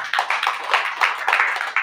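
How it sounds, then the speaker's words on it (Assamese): Congregation clapping together at a church service, a steady rhythmic run of hand claps at an even quick beat, moderately loud, with no voices over it. "বল আমি তালি বজাই ঈশ্বৰক ধন্যবাদ"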